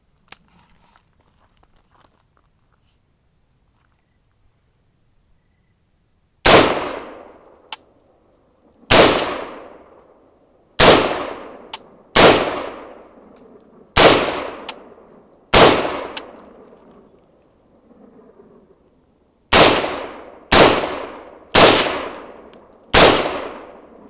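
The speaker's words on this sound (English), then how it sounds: "Let's see if we can get the rest of the rounds through this." An Adams Arms piston-driven AR-15 rifle fires about a dozen single loud, sharp shots at irregular intervals, each with a short echoing decay, after several seconds of near silence.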